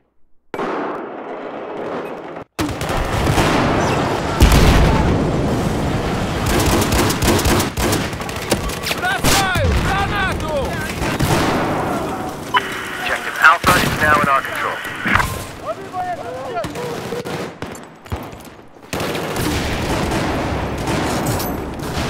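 Battlefield 4 gunfire: dense, continuous bursts of automatic weapons and booming blasts, loud and close, with short quiet gaps and voices heard amid the firing.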